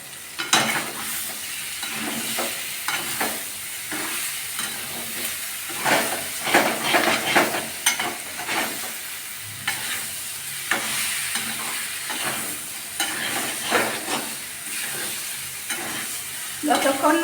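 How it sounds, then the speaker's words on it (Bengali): Spiced cauliflower and potatoes sizzle steadily in a pan while a utensil stirs them in repeated scraping strokes. The frying hiss runs continuously underneath, with louder bursts each time the mixture is turned, close and without talk. "যতক্ষণ না মশলাটা সব ফুলকপি আলুতে লাগবে ততক্ষণ আমি এটা নাড়তে থাকবো।"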